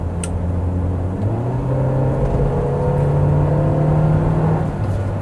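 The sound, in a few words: Daihatsu Grand Terios 2016 accelerating in sport mode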